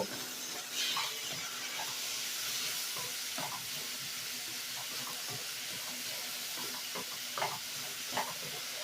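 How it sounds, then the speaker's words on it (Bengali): Shrimp fry in oil with salt and turmeric, a low continuous sizzle dotted with scattered pops and the occasional scrape of a spatula, quiet and close. "নুন আর হলুদ দিয়ে কিন্তু চিংড়ি মাছটাকে আমি ভালো করে ভেজে নেব"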